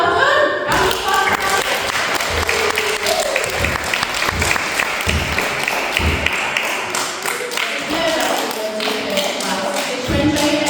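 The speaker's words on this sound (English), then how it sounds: "Round of applause." Sustained loud applause from a crowd of pupils and staff at a school celebration assembly, steady clapping with thumps and taps throughout.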